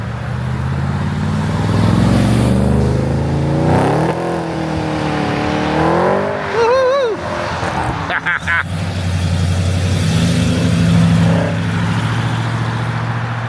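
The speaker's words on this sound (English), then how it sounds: "Got a few cars leaving now." Modified cars, including a supercharged XR8, leaving a Brisbane Superformance car show: engines rumble and rev as vehicles pull away nearby, with rising acceleration sweeps and voices talking over the motor noise.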